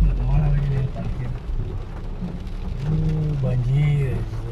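Rain pouring at night in Jeddah, a steady wash of falling water heard outdoors with traffic nearby, while someone talks over it.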